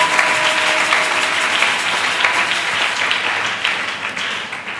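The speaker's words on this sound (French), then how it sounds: "Acclamons encore." A church congregation at a Sunday service breaks into sustained applause, a dense even roar of many hands clapping close by for the whole stretch.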